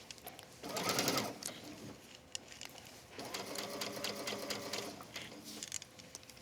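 A sewing machine stitches a fabric ruffle in two bursts, a fast whirring run followed by a pause and then a longer, slightly slower stretch of stitching, close and moderately quiet.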